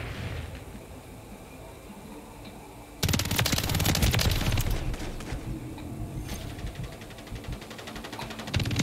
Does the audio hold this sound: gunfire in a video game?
yes